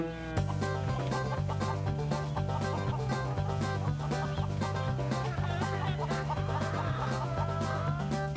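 Chickens clucking at a farm party, heard under continuous loud rhythmic music with a steady beat.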